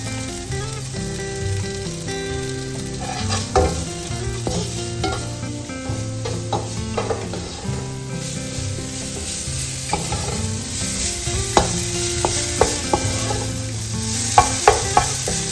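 Spice masala with pepper and salt is stirred in a hot pan for prawn biryani, making a loud close sizzle with repeated spatula scrapes and taps that grow sharper near the end, no speech.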